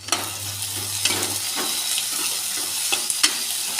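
Garlic and onions frying together in hot oil for a chickpea curry tadka, a dense, steady sizzle up close with a few sharper stirring scrapes and spatters breaking through.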